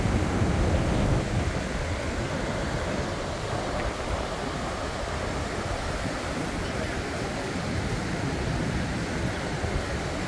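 Strong wind buffets the microphone outdoors at a racetrack, a constant loud rushing roar that fills the whole clip with no break.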